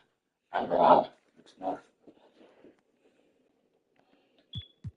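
A dog gives a short low growl, then a few fainter whimpering grumbles, close and fairly quiet, ending with two small clicks.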